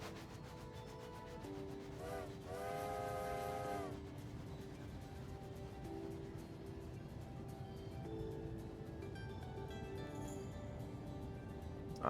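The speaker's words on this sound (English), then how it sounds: "look at us chugging through this little tunnel. Full speed." A video game train runs at full speed through a tunnel, with a steady rolling rumble throughout and a loud whistle blast about two seconds long near the start.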